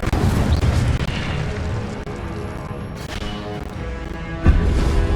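The Incendio fire spell from Hogwarts Legacy roars out as a dense, loud, sustained whoosh of flame and rumbling booms, with a heavier burst near the end and no talk over it.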